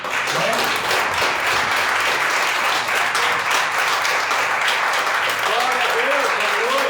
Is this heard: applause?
yes